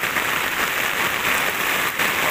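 Heavy rain pours down in a village in Sidokaton, Tanggamus, a dense, steady, close hiss of drops drumming on surfaces, loud and unbroken with no voices.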